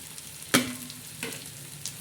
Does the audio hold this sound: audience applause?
no